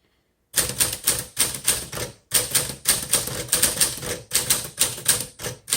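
Rapid bursts of keystrokes from a 1949 Smith Corona Sterling manual typewriter, each burst a quick run of sharp clacks separated by brief pauses, close and loud with no voices.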